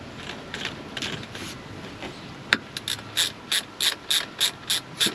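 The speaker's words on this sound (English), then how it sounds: "Then you start cranking this down to tighten the boot up." The ratchet strap on a Burton Step-On snowboard binding is cranked tight, giving a quick run of about eight evenly spaced, close-up metallic clicks after some softer fumbling and handling noise.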